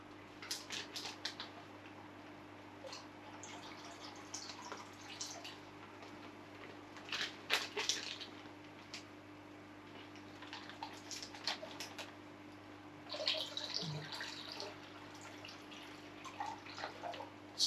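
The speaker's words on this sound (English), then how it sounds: "each bag has now had some tank water poured in there" Small splashes and trickles of aquarium tank water being poured into fish bags, coming in short bursts separated by pauses, faint over a low steady hum.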